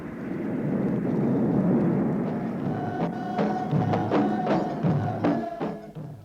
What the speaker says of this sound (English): the Andover of the Queen's flight landed on the dirt runway marked by stones painted with emulsion paint